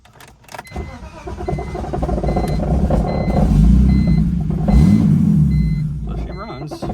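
BMW 330ci with a turbo conversion cranking and catching, then running rough at close range for several seconds as the engine settles, with low rumbling and a few faint beeps.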